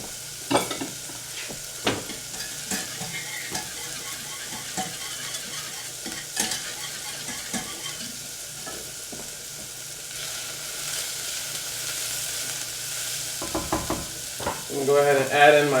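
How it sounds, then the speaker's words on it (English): A whisk stirs and scrapes through melting roux in a hot pan for Cajun chicken pasta, a soft steady sizzle under repeated sharp taps against the pan, with a louder clatter near the end. "So I'm going to switch to a whisk."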